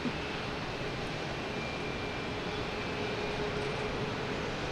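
An airliner flying low overhead near Boston Logan Airport, a steady broad roaring rush of engine noise that fills the whole moment, close and loud, with no talking.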